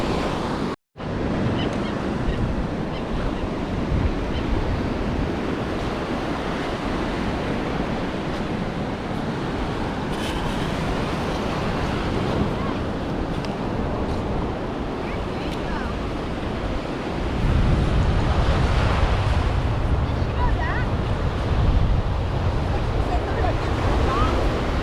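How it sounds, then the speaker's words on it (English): Ocean waves break and wash steadily onto Clearwater Beach near ankle-deep water, a continuous loud roar of surf with wind buffeting the microphone that grows heavier toward the end. "some pretty decent wave action going on"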